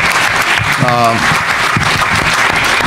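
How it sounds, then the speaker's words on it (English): Dense, steady applause fills a large hall at a Congressional Black Caucus voting rights event, a continuous wash of many hands clapping, with a brief tonal voice or whistle rising through it midway. "Let's give them a big round of applause."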